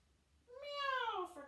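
A person imitates a cat's meow during a family yoga cat pose, voicing one rising-then-falling drawn-out meow after a quiet start, near and moderately loud.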